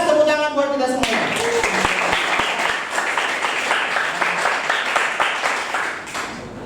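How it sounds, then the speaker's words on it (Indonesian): Students in a classroom break into a round of applause after a lesson. A few sharp individual claps come first, then steady group clapping that fades slightly toward the end, following a brief voice at the start. "Jelas, tepuk tangan buat kita semuanya."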